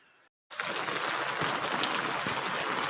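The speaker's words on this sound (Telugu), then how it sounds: "చాలా పెద్ద వర్షం అండి" Heavy rain pours down steadily in a dense, continuous roar with splashing water, close and loud, after a brief silent gap at the start.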